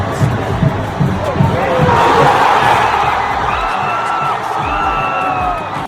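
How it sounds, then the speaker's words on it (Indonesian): A packed football stadium erupts after a Messi headed goal, a loud, sustained roar of cheering and shouting that swells and holds, with whistle-like tones rising through the crowd noise near the end. "Stadion langsung meledak dalam sorakan luar biasa."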